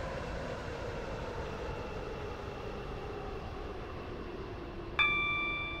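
Class 717 electric train running in a railway video game, a steady broadband rumble and rolling noise throughout, with a sharp tonal chime or beep cutting in near the end.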